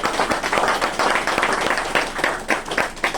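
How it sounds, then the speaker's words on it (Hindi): An audience at a talk claps, with sharp hand claps coming in quick, uneven bursts at moderate loudness, mixed with a faint murmur of voices. "आदरणीय टीसी सर, मैं चाहूंगा एक बार जोरदार ताली होना चाहिए"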